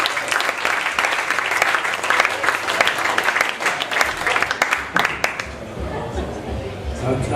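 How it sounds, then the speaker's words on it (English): An audience breaks into steady applause that carries for several seconds with scattered cheers and crowd chatter mixed in, then tapers off toward the end. "Give him a big round of applause and go."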